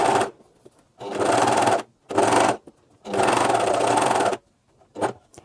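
A coverstitch sewing machine running three needles hems a T-shirt in several bursts of loud, rapid mechanical whirring, separated by short pauses and ending with one quick final stitch.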